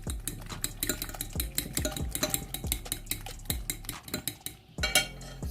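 A spoon stirs coriander powder and spices in a bowl for egg paratha, giving a steady run of quick, rhythmic scraping clinks against the dish, close and fairly loud with no voices.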